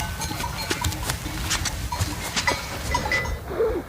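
A flock of sheep gathered in a mountain valley at the end of the summer grazing season gives scattered overlapping bleats, near and moderately loud, over soft background rustle.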